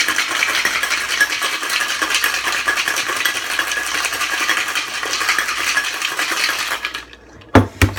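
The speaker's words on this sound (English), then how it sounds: "We are going to then mix together in our Boston shaker" Coffee old fashioned being mixed in a Boston shaker, a steady fast rattling and clinking of ice against metal, close and loud, stopping abruptly near the end with a couple of final knocks.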